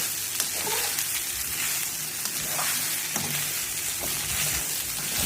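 Sabudana khichdi with green chillies sizzles in a kadai while being stirred, giving a continuous crackling fry with scattered clinks and scrapes of the spoon against the pan, close and steady with no voices.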